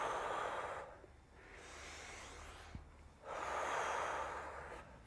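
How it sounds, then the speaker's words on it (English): Deliberately exaggerated breathing during home push-ups: two long, forceful blown breaths separated by a quieter gap, close to the mic over a low background hum, with no talking. "I'm exaggerating my breathing. We'll blow out when we push up."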